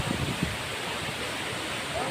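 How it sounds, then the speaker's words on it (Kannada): Vibhuti Falls waterfall with water falling forcefully, a steady, even broadband rush of pouring water that holds without a break, moderately faint and continuous throughout. "ನೀರು ಜೋರಾಗಿ ಬೀಳ್ತಾ ಇರುತ್ತೆ"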